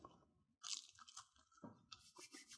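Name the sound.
chewing crunchy baked zucchini chips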